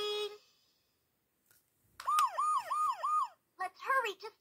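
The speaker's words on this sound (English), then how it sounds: "The siren on my roof goes." A VTech Go! Go! Smart Wheels toy police car plays an electronic siren, four quick rising-and-falling wails followed by a shorter warble, fairly clear and close, after a brief tone and a pause.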